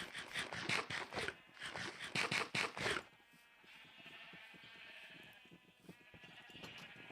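Sheep on a video-game sheep farm bleat in a rapid burst of several overlapping calls, followed by a quieter stretch of soft scraping and faint bleats from the flock.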